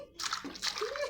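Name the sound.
water splashing as a baby is bathed in a cooking pot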